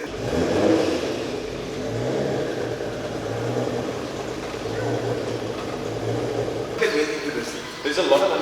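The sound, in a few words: Nissan GT-R project car engine running on a dyno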